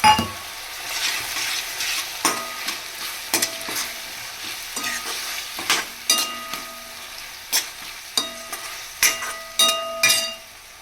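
Boiled chickpeas fry in a pan for a chickpea biryani, sizzling steadily while a utensil stirs them and scrapes and clinks against the metal at irregular moments. The sound is close and no one talks.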